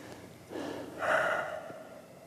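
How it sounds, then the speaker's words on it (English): A deep breath taken during a calm tapping exercise: a soft inhale followed by a louder, airy exhale, close to the microphone with no talking. "Take a deep breath."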